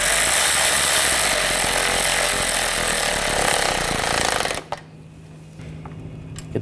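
A power tool whirs and rattles loudly, tightening the splash shield nuts under a Nissan Rogue, running continuously for several seconds before stopping abruptly, followed by quiet with a few faint clicks.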